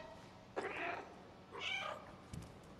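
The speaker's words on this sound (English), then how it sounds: "Wait, does that work? The meow?" A cat meows in the video game Stray, two drawn-out meows about a second apart over a steady low background hum, with a soft thump after.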